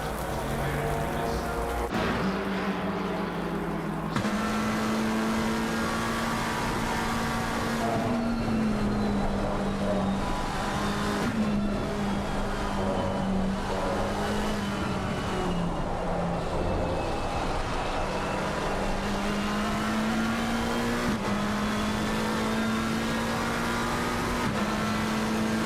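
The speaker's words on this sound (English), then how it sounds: "You can get an idea of just how heavy the rain sound is for these drivers just now." Race car onboard in a sim racing game during heavy rain: a steady engine drone shifting pitch with gear changes and throttle, under a constant broadband hiss of rain spray, loud and continuous throughout.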